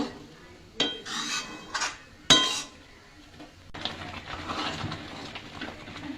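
Bay leaves are stirred into payesh in a pot, heard as a few sharp metallic clinks of a spoon against the pot followed by softer scraping, close but fairly quiet, with no talking.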